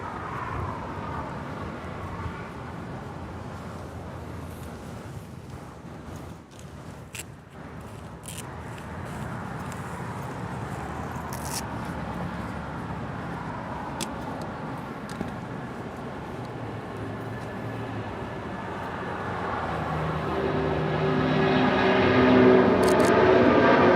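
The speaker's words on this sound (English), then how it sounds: "Number 2 for departure here on the south side is the Air Canada A330-300. Now rolling down 25 right." An Air Canada Airbus A330-300 rolls for takeoff on runway 25 right at Los Angeles International Airport, its jet engine roar distant and faint at first, then building steadily louder toward the end.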